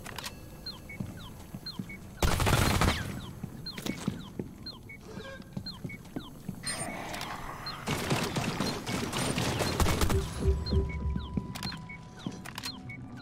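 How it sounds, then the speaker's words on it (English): Gunfire in the video game Rainbow Six Extraction, bursts of rapid shots and sharp single cracks over busy game effects and chirps, fairly loud. "Aim at the anchor point and shoot when they open."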